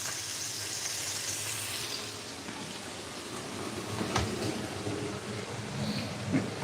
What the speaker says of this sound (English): Those french fries can go a lot longer.